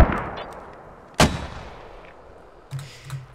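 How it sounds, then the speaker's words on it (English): Mortar rounds firing in the military shooter Squad: a sharp, loud blast near the start, then a second muffled thump with a low rumble a moment later, over quiet open-field ambience. "We're about to push off mortars here in a second, so last round's outbound, over."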